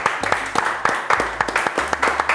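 A short burst of clapping from a group, brisk and uneven, with scattered sharp claps over a steady patter.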